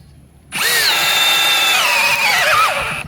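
A Tekiro XV 20V cordless brushless drill fitted with a 19 mm bit spins up abruptly after a short quiet moment, whining loudly and steadily, then its pitch sags and wavers as it strains under load near the end.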